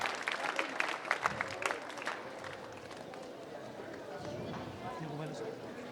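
Children at a school alumni meet clapping to welcome the principal and vice principal, a burst of crowd applause that fades into a murmur of voices and background bustle.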